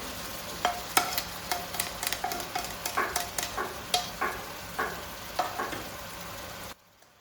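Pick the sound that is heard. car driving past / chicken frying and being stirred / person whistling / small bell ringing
chicken frying and being stirred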